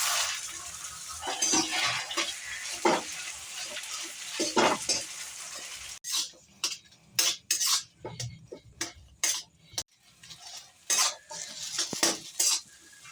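Boiled, salted potato is stirred and mashed with reddish fried onions in a pan, first as a soft sizzling scrape, then as a series of sharp, rhythmic utensil knocks and clacks against the pan.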